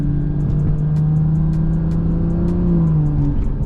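A car engine drones steadily with a sustained hum, its pitch sagging and flaring during a light-throttle gear change as the built transmission slips, with faint ticking on top.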